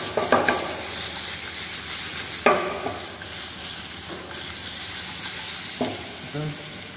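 Potatoes for pommes sautées fry in a pan with white pepper and salt, giving a steady close sizzle and hiss, broken by several scraping stirs and light clinks of the utensil against the pan.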